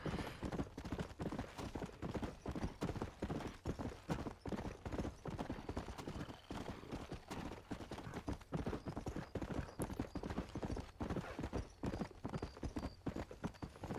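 Horse hooves clip-clop steadily in the video game Red Dead Redemption, a rhythmic galloping beat of close, repeated strikes that runs the whole stretch, with occasional snorts from the horse.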